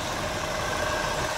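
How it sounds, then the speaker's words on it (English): An Acura TL car engine idles steadily with a continuous, even mid-range hum and no pauses, held at a constant level throughout, with no talking over it. "you guys leave the engine running"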